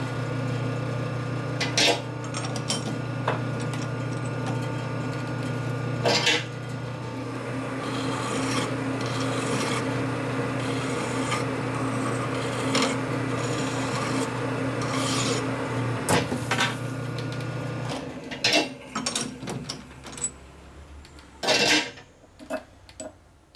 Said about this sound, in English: Trying to sand the edge off a little bit, but it's not going to do much